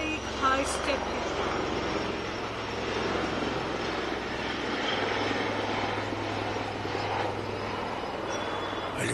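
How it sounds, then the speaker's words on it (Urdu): Helicopters flying overhead, a steady broad engine drone filling the whole stretch with no break, a low throbbing hum underneath, heard at a moderate distance. "ہیلی کاپٹر چلے گئے۔"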